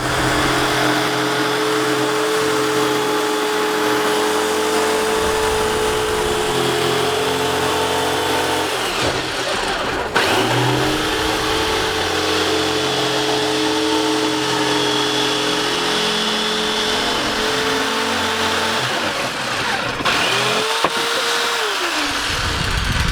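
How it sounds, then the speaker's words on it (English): A jigsaw cuts wood for a large farmhouse-style dog feeder, a loud, close, continuous buzzing drone that briefly falters twice before carrying on, with no talking. "Then we're going to get the jigsaw ready to go"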